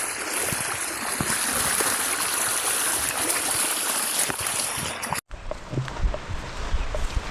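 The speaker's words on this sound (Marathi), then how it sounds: "धबधब्याचा आवाज यायला लागला आता" Broad, steady roar of the Ozar waterfall at Ovaliye village, loud and continuous, with a brief cut before it resumes slightly softer.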